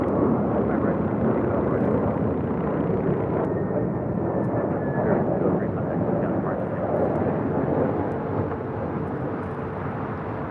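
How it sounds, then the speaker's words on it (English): A Boeing 737-900ER airliner arrives at LAX with a broad, loud jet roar that holds steady and fades slightly toward the end. "1070 coming in from Portland on a 737-900ER in the Honoring Those Who Serve livery"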